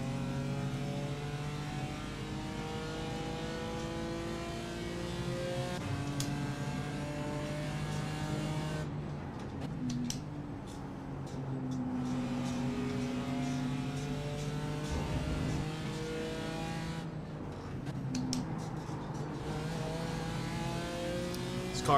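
A GT4 race car lapping Brands Hatch in the iRacing simulator, its engine droning steadily with rising and falling pitch through gear changes and brief lifts for corners, close and continuous.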